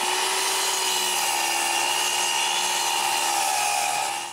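Power saw cutting a cedar board to length for a patio table, a steady continuous whine with a high buzzing edge held for about four seconds, close and loud, then trailing off at the end with no talking.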